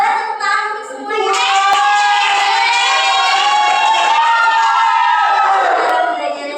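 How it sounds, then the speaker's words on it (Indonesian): Classroom of children cheering and shouting together, loud and sustained for several seconds, with clapping faintly mixed into the crowd noise. "boleh tepuk tangan untuk semuanya"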